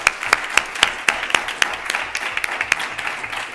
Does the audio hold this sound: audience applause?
yes